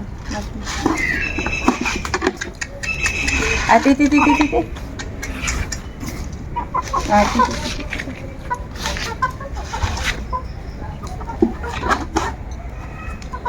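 Chickens cluck intermittently in the background while people talk over them, with a few louder bird calls standing out near the middle.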